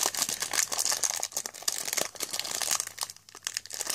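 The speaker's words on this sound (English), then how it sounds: "And open the pack of 50 or so cards that are in here." Crinkling and tearing of the foil wrapper on a pack of 50 Match Attax football trading cards, a steady run of close, crisp crackles with no speech.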